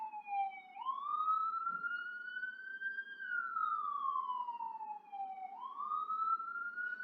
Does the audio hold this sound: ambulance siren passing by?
yes